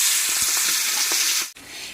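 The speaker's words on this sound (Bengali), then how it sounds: "তেলের মধ্যে এবার হলুদ লবণ মাখানো চিংড়ি মাছগুলো দিয়ে দিচ্ছি" Turmeric-and-salt coated prawns fry in hot oil with a loud, close, bright hissing sizzle that cuts off abruptly near the end, then resumes more quietly.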